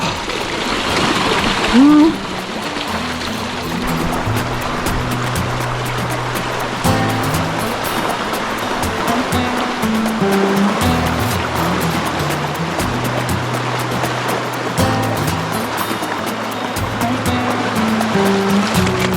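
A motorcycle wades through a cold, deep Alaskan stream, the steady rushing and splashing of water running throughout with the engine droning low underneath and a brief louder splash early on.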